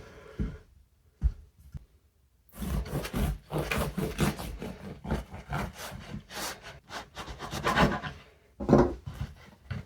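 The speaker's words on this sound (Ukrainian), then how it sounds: "хліб трішки охолов. Зараз ми його розріжемо." A knife saws through a freshly baked, cooled loaf of onion bread, first a few isolated taps, then a run of rasping back-and-forth strokes through the crust, close up with no speech.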